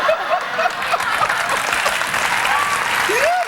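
Studio audience applause mixed with cheering and whoops at a 2004 television talk show, a dense, steady roar lasting throughout at close range.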